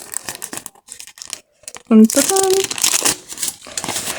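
Crinkling of a plastic packet being handled, bursts of crisp rustling beginning partway through, with a voice speaking before and around it.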